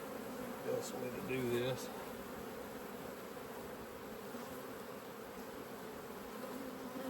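Honeybees hum steadily around an open hive's brood chamber during a super check, a close, continuous drone, with a brief spoken phrase near the start.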